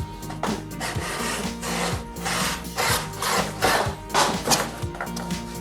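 A dull blade scrapes rhythmically across a wooden guitar back cavity cover, close and loud, with repeated rough rasping strokes and no talking.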